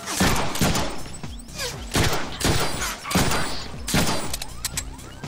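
Repeated bursts of gunfire in the Deadpool video game: loud, close shots at irregular intervals, each with a sharp attack and a short decay, some in quick clusters.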